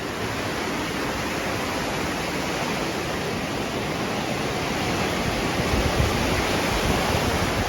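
Surf rolls onto the beach at Hua Hin, Thailand as a steady, broad wash of breaking waves, moderately distant and constant with a slight swell near the end, no voices.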